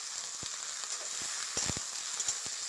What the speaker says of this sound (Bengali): বেগুন, আলু, মটরশুঁটি, গাজর। এবার খুব ভালো করে ওইগুলো আমি কষিয়ে নেব।